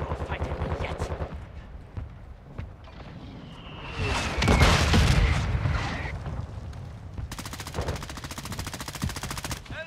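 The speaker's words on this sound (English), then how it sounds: "You are taking effective fire." Call of Duty firefight with sustained machine-gun bursts and gunshots, a loud blast-like swell in the middle, then rapid steady automatic fire toward the end, with voices talking over parts of it.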